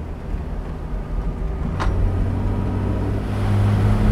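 A fully restored Mercedes Pagoda 280SL accelerating from inside the car, with a low, steady engine drone that builds gradually and holds a strong rumble near the end, with no talking.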